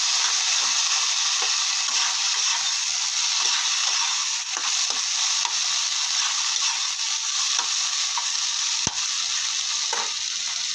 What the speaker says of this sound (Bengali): আলু ভাজা বানাচ্ছি